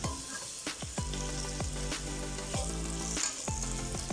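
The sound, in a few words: meat and okra (bamia) sizzling as they fry in a pot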